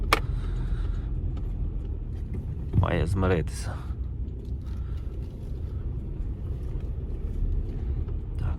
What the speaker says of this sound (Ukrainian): машина і для того машина, вона мусить їхати куди мені треба